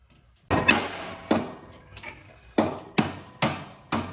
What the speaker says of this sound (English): See the benefits of a claw hammer?